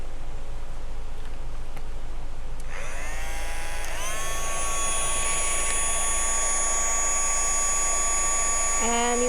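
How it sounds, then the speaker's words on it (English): A heat gun blows over stickers with a loud, steady whine that rises in pitch as it spins up, then holds one high, constant tone over a low rumble. "And then you're going to take your heat gun"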